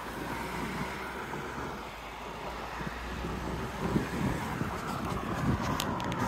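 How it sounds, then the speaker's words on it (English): Steady outdoor breeze buffets the microphone while a vehicle drives slowly around an intersection, a continuous low rumble and whoosh with no one talking. "A little breezy this morning."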